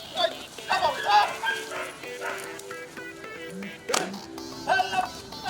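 A dog barks and yips in short bursts during a canine handler training course, with a handler shouting commands over the ongoing outdoor noise.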